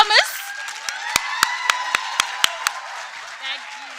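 Sharp, evenly spaced hand claps, around seven in a row, over a sustained tonal drone at a conference, cheering on drama performers. A voice is heard briefly at the start and again near the end.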